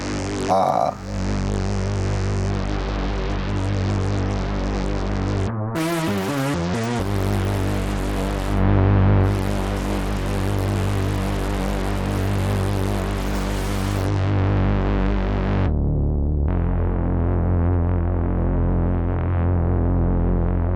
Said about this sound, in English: Let's hear the distortion.